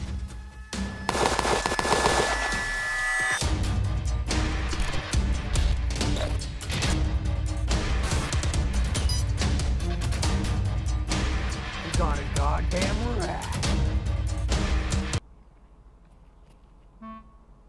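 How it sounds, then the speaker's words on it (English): Suppressed MPX firing 7N31 9x19 rounds in Escape from Tarkov, with dense bursts of muffled shots and impacts over continuous game noise, then dropping to quiet near the end. "today we are going to be sniping with the 7-31 round out of an MPX with a Valide and a sound suppressor"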